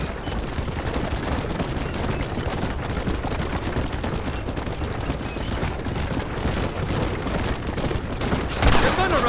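Sustained gunfire from a Red Dead Redemption shootout, dense rapid shots layered over game ambience with a louder burst near the end, steady and loud throughout.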